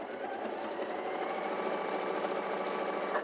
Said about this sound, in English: And again, let's sew down here.